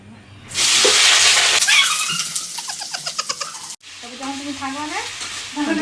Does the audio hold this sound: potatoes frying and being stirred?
yes